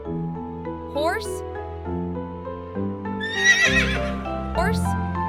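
A horse whinnies loudly with a shrill, quavering neigh over background music, with brief squeals before and after.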